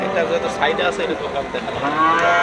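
A Holstein Friesian bull calf moos loudly and close by at a cattle market, a long drawn-out low call that rises and wavers, with some faint background noise.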